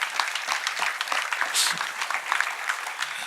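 Audience clapping after a poetry segment at a school quiz event, brisk scattered applause from a modest crowd, fairly close and steady, with a brief voice or cheer mixed in.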